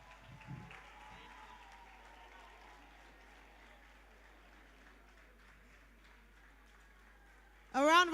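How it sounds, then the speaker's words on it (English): Faint, distant applause from the audience at an African grant award ceremony, a steady low wash of clapping under room hum, then a voice speaks up loudly at the end. "A round of applause, please."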